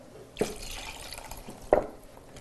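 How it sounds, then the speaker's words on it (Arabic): Water poured into a pot of Libyan Derna-style hasa soup in a home kitchen, two short splashing pours about a second apart, close and clear with no talk. "هنحط الميه متاعي توا،"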